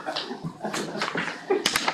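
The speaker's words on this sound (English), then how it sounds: "Oh, here's a puppy." A puppy in a meeting room lets out several short, close whimpers and yips in quick succession, rising into sharper cries at the end, with no talk over them.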